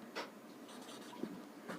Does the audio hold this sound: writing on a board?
yes